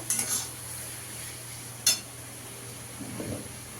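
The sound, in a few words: stirring fried pointed gourd (potol) into cooked spice paste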